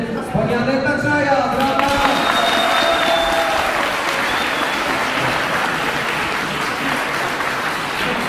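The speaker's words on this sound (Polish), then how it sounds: "Wielkie brawa" Crowd at a teenage bench press competition applauds competitors, a dense wash of clapping filling the hall after a brief announcer's voice at the start, continuing steadily.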